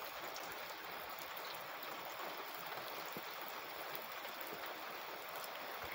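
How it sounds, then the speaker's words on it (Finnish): Steady rain falling outside at night, a continuous soft hiss with scattered drip-like ticks, even and fairly distant throughout with no voices. "Nyt sattaa vettä."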